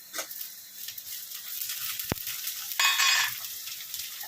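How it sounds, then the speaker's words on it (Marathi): Onions and tomatoes fry in a pan while being stirred, giving a soft sizzle with scraping strokes and a louder burst of hissing later, close by, with one sharp tap partway through. "हे चांगलं आपल्याला हलवून घ्यायचं आहे कांदा भाजेपर्यंत"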